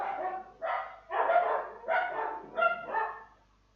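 Dogs bark in a series of about six close, loud, evenly spaced barks, with no voices present.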